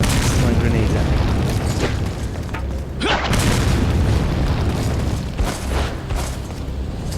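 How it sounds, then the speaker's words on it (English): Grenade blasts in Resident Evil 4 on PS4, a loud game explosion bursting out around the middle amid continuous dense game noise and speech. "Throwing grenades at me."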